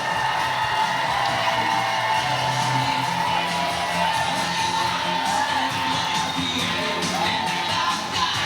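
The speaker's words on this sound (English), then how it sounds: "There's a big crowd in it. They're very excited." An excited crowd at the Belfast Has Talent show, a sustained roar of cheering, whoops and shouts that holds steady and loud throughout, with no distinct speech.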